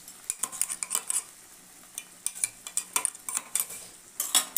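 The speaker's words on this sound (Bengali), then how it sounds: "আমি মশলাটা ভালো করে কষিয়ে নিয়ে তারপরে আলুটার সাথে আবার মশলাটা কষিয়ে নেব" A utensil scrapes and clatters rhythmically in a pan while spice paste fries, with repeated sharp stirring strokes over a faint sizzle, close and without talk.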